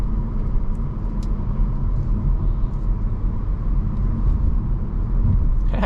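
A 2023 Audi A4 45 Prestige's 2-liter four-cylinder engine accelerating under throttle with Ultra Quattro all-wheel drive: a steady, loud low rumble with road and tire noise, rising slightly near the end, with no talk.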